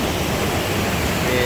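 Loud rushing water pours through Gumunso pool in Taebaek, a dense, steady roar that fills the whole clip, up close, with no pauses.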